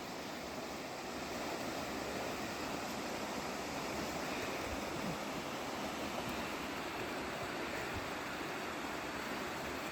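A mountain waterfall roars in a steady, dense wash of rushing water, loud and unbroken throughout, with no voices.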